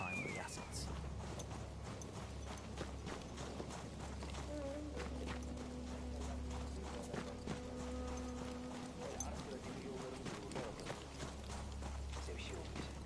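Horse hooves clip-clop at a steady walking pace in the World War One video game Battlefield 1, a continuous run of close hoof strikes under a speaking voice and low background rumble.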